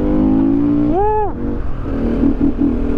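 A KTM 450 EXC motorcycle engine revs nearby, a steady drone rising sharply in a quick blip and then settling back into a rough, loud idle.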